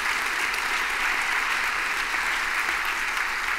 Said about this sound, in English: No, that's the applause,